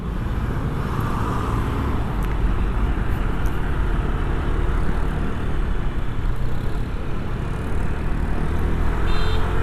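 A Honda Vario scooter ridden fast at around 100 km/h gives a steady, loud roar of wind and road noise that masks the engine almost entirely, continuous from start to finish.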